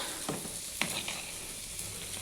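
Rice bubbles in a pot while cooking, a soft steady simmering hiss with a few faint pops and clinks standing out over the low background.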